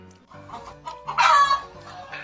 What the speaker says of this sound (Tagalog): Putak ng putak.